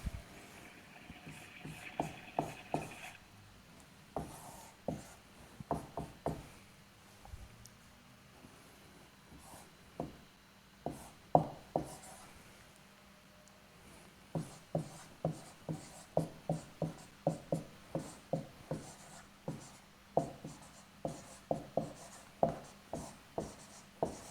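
Quick scratching strokes of writing on a board during a physics lecture on magnetism come in irregular bursts, with a brief pause midway and then a steady run of taps and scrapes close by. No one speaks.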